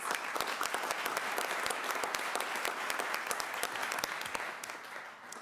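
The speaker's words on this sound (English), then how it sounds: "So let's give her a round of applause." Audience applause fills the room at a board of education meeting, a brisk, steady patter of many hands clapping at moderate distance, sustained throughout before easing slightly at the end.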